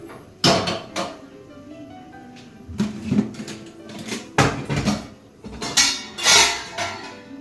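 Pots, plates and steel dishes being stacked and put away in a home kitchen, with a series of close, loud clanks and clinks in irregular bursts separated by brief pauses.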